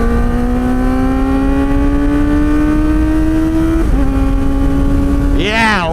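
A Kawasaki ZX-4RR with an aftermarket exhaust screams loud and close, its pitch climbing steadily before a quick-shifter upshift cuts in with a brief stutter, then rising again into a sharp high rev near the end.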